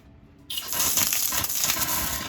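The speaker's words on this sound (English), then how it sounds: "Yeah, there we got water that came out." Water gushes and splashes out of an RV's low point drains during winterizing. After a brief quiet moment the flow bursts on suddenly and keeps running loud and steady.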